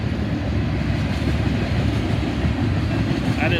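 A long freight train carrying hazmat tank cars, run on distributed power, rolls past in Northwest Ohio with a loud, steady rumble and rhythmic clickety-clack of wheels on rail joints, close by and continuous.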